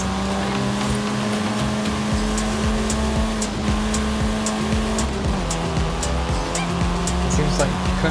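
Race car in Forza Horizon 5 driven at full throttle, a loud steady engine drone with a slight pitch drop partway through, plus rumbling road noise and faint tire sounds.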